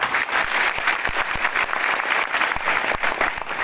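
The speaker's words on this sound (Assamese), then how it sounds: "নিজৰ বাবে এটা হাত চাপৰি বজাই দিয়া।" Steady applause from an audience at an Assamese motivational talk, dense and continuous claps filling the whole stretch at a fairly loud, even level.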